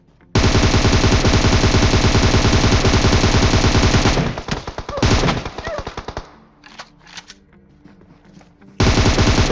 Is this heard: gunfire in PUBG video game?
yes